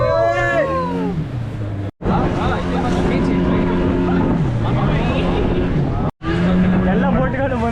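A tour boat's engine drones steadily during an evening ride through the Pondicherry mangroves, with background chatter from other passengers and two brief dropouts in the sound.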